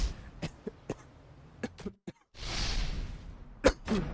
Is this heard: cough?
yes